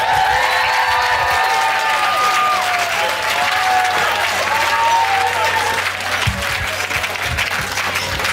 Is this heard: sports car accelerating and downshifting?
no